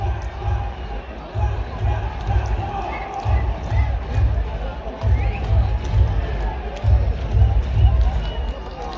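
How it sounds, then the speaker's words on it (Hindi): A packed cricket stadium crowd at an India vs Namibia T20 World Cup match chants Hardik's name, a steady rhythmic chant pulsing in repeated beats over broad crowd noise. "हार्दिक की आवाज लगा रहे हैं"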